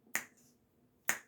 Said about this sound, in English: popping my fingers and snapping my neck away, popping my neck and snapping my fingers